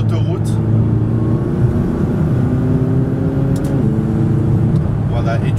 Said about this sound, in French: tu sens les turbos quand ils soufflent à l'intérieur pour te donner un petit peu plus et encore plus de puissance à cette 570 GT